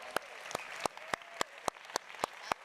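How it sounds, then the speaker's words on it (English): Sparse, distinct hand claps ring out at a conference plenary, roughly three per second in a loose, uneven rhythm, fairly faint and isolated rather than a full crowd ovation. "Big applause"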